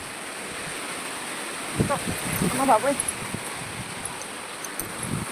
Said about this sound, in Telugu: ఏంటి గాలి అంటే మనిషిని ఎగరేసేస్తుంది